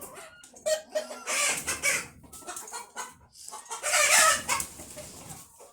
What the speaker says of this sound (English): Why are there so many chickens in here?